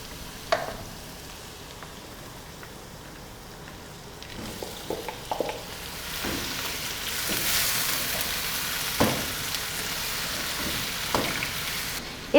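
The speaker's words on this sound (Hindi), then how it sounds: "जब तक गोश्त फ्राई होता है" Beef pieces with marrow bones sizzle in a pan over browned garlic for Pakistani beef biryani. A steady frying hiss builds louder over time, broken by occasional clinks and stirring knocks.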